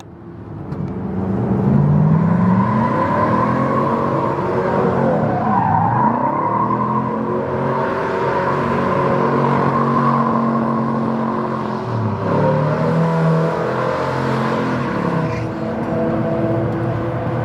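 A car engine revs hard and continuously in third gear while the vehicle fails to move because of a transmission problem, a loud, close roar that rises and falls in pitch for the whole stretch.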